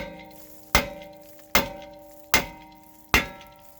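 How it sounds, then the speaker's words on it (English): Small sledgehammer striking a brake rotor on a 2016 Toyota Camry XSE, four loud metallic blows evenly spaced under a second apart, each ringing briefly before the next. "Find a nice little sledge. Give it a nice hit."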